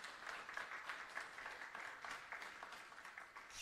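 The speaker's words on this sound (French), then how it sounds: "je vais vous demander s'il vous plaît d'applaudir le mainteneur de ce produit" A conference audience at a French tech talk about Talos applauds, steady sustained clapping from many hands throughout, moderately distant and even in level.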